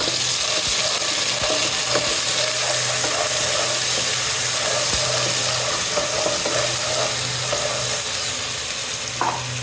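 Ginger, garlic and cumin paste frying in a pan, a loud continuous close sizzle with occasional soft scrapes and taps of a spoon, steady throughout with no talk.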